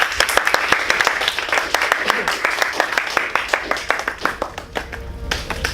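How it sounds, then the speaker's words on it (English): Audience applause, a dense patter of many hands clapping steadily for several seconds before thinning out near the end. "Please give him a round of applause."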